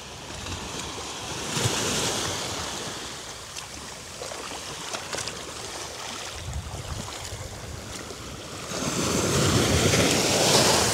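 Ocean waves surge and wash against the rocky shore-dive entry at Invisibles on Bonaire, a steady rushing swell with wind noise that builds louder toward the end, no talking.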